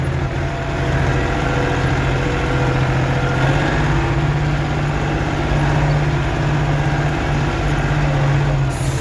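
A DF244 tractor engine runs steadily while driving over snowy fields, a loud, continuous low diesel drone heard from close by with no break.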